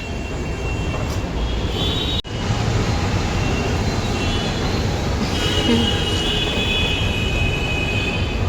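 A metro train rumbles steadily past at close range, wheels squealing faintly on the rails and a brief sharp clack breaking the continuous noise.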